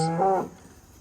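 A steer moos at a feed trough on a cattle farm, one loud, close, drawn-out bellow lasting about half a second before fading into quiet.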